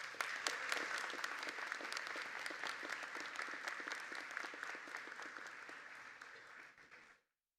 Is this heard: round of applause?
yes